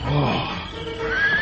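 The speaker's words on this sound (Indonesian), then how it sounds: "Alas kudamu meringkih ketakutan." A frightened horse gives a loud, close, shrill whinny that rises and wavers, with a faint voice in the background.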